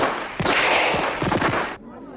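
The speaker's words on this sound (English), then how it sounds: "Oh, no, it's gunfire." Cartoon gunfire sound effects crackle as a rapid burst of sharp pops and bangs lasting under two seconds, loud and dense, then cut off abruptly.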